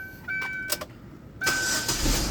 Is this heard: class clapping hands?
no